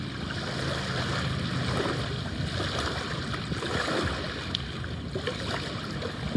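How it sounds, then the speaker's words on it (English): Water flowing close by, a stream or waves, as a dense continuous rushing wash at steady loudness with no voices. "I'm sure the noise is getting stronger here because the water is now getting so close."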